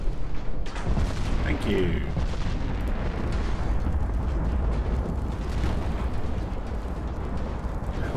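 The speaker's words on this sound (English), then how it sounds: "We're gonna fire the mains." Battleship main guns firing in Ultimate Admiral Dreadnoughts, a Yamato versus Iowa naval battle, deep rumbling booms rolling into a sustained roar, loud and dense, with someone speaking briefly over it.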